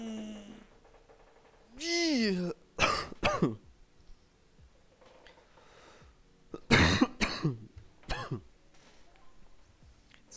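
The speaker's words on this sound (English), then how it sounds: "Not the greatest year to cough" A man coughs and clears his throat in a few harsh, separate bursts at close range, with a brief voiced sound early on and quiet pauses between.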